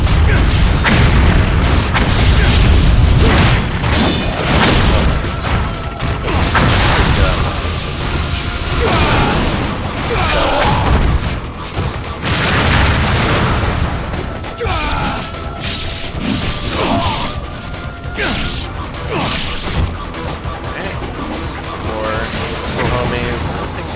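Missiles explode repeatedly during a Ninja Gaiden II fight, loud booms and crashes layered over continuous dense game music and effects.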